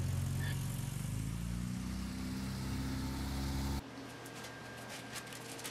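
A 1966 Triumph Spitfire MK2 four-cylinder engine runs evenly and close by with a steady idle hum, and partway through the sound drops to a quieter, thinner running note.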